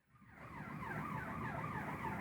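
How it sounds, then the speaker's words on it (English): A siren outside wails in a repeating rising and falling sweep. It is faint and distant, grows slightly louder over a couple of seconds, and has no voices over it. "Where are the sirens when we need them?"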